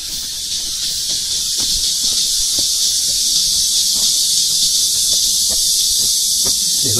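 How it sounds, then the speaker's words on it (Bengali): Crickets in a hill forest at Suwon Hwaseong Fortress keep up a dense, steady shrill chorus that never lets up, with a few soft footsteps and rustles underneath. "দেখুন ঝিঝি পোকার ডাক দেখেছে"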